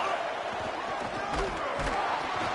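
Home crowd at a football game as the defense tries to get off the field on third down: a sustained stadium roar with rising swells of cheering, distant and dense throughout.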